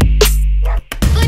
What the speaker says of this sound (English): little dog barks